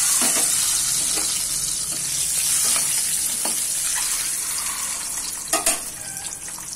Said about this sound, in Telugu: ఆయిల్లోకి ఈ ఎగ్స్ ని తీసుకొని ఒక్కొక్కటి వేసుకోవాలండి ఫ్రై అయ్యేది